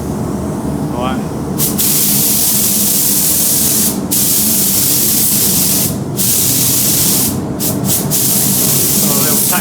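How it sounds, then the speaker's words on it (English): Clear lacquer hisses steadily from a spray gun onto a Traxxas Maxx RC car body shell, a loud, continuous spray broken by a few brief pauses between passes. "let's get some clear coat on this and see what it looks like"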